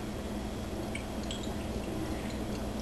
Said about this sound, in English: we're going to add a 1/4 inch of water along the bottom of the pan.